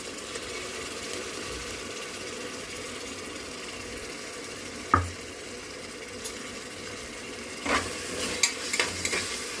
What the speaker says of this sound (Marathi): वाटण नाही छान परतून घ्या आणि काय होईल अद्रक लसूणचा कच्चा वास जाईल छान भाजलं जाईल